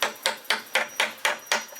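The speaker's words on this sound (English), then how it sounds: "So I'm just bashing them out a little bit with a hammer." A hammer strikes rusty nails in old pallet wood, giving seven evenly spaced sharp knocks at a quick, steady rhythm, close and clear with no talking.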